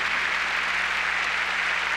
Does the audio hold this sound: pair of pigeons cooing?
no